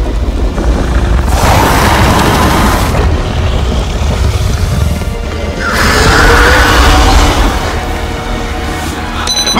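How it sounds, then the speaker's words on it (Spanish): A bomb explodes in a staged live-action Among Us scene, a loud sustained roaring blast with rumbling low end that swells twice over nearly ten seconds, with no talk over it. "¡La bomba!"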